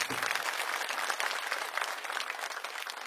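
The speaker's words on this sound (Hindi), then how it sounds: "हमारे कार्यकर्ताओं के लिए सबसे पहले एक बार जोरदार तालियां आप लोग बजाइए" A crowd at a political rally for the AAP in Tughlakabad applauds, dense and steady clapping throughout, fairly distant and without speech over it.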